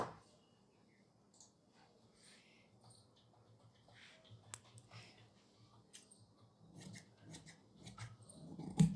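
Scissors snipping through fabric while cutting a kurti sleeve, a series of faint close clicks and slides over a quiet room, growing louder near the end.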